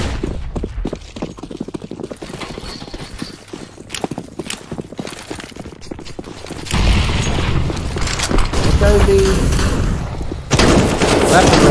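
Nova shotgun blasts ring out during a competitive Counter-Strike match, loud, sharp reports over a steady patter of footsteps and game noise, growing denser toward the end.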